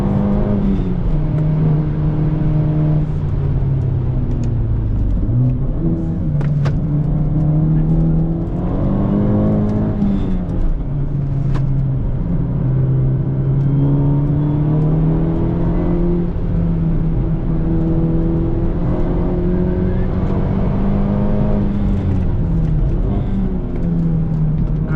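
Hyundai Elantra N driven hard around a race track on a hot lap, its engine holding a loud, steady drone close by with rises and falls in pitch as it pulls through the gears and corners, without a break.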